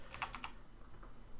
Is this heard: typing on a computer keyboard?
yes